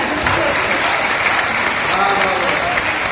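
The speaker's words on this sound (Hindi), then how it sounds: "मजा आया तो एक बार ताली बजाइए" An audience at a comic Hindi-Urdu poetry recitation breaks into sustained, loud applause, a dense crowd of clapping filling the whole stretch.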